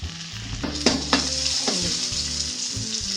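Tomatoes frying in a pan, a continuous close sizzle with several sharp scraping and tapping strokes of a spoon stirring, steady and fairly loud throughout, with no voices.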